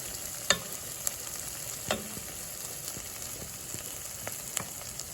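Onions for French onion soup cooking down in a pot, a steady soft sizzle with a few sharp clicks of a spoon scraping the pan, fairly quiet and close, no talking.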